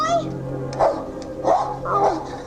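A dog yips and whimpers in short bursts several times in a 1984 live radio drama, close and prominent, mixed with vocal sounds.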